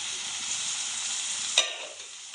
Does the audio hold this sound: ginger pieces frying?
yes